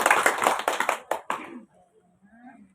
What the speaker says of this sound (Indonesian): tepuk tangan untuk kita semua dulu Ibu.